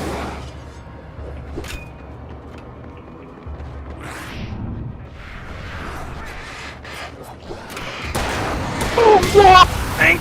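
Explosive cans blowing up in the video game Alan Wake: a run of booming, crackling blasts and debris near the end, following quieter in-game sounds and rustles, with a player's voice talking over parts of it.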